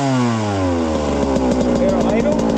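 A 1995 Suzuki RM125 two-stroke dirt bike with a bogging fault revs loudly up close, its pitch sliding down and then settling into a rough, buzzy run.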